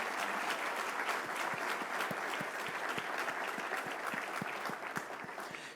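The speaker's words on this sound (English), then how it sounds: "Please give Linda Glusing another round of applause for her wonderful rendition of the national" An audience at a formal awards ceremony applauds after the national anthem, sustained dense clapping from a large crowd that holds steady and tapers slightly at the close.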